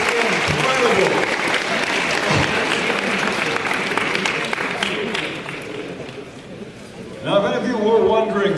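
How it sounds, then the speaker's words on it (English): A large audience claps in sustained applause at a Formula SAE business presentation finals event, the dense clapping steady and loud, easing slightly before a fresh swell near the end. "why don't we give another big round of applause to Illinois and Stuttgart"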